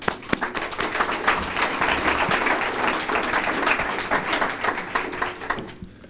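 Audience applause at a National Register of Historic Places ceremony: steady dense clapping from a gathered crowd, sustained for several seconds at close range before tapering off at the end.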